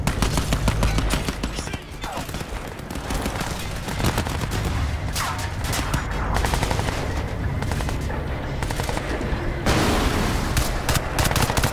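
Rapid machine gun fire in the first-person shooter Crysis 3, dense continuous bursts of shots with brief gaps, loud and close, mixed with other battle sounds.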